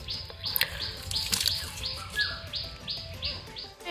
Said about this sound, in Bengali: তোমরা তো শুনতেই পারছো পাখির ডাক।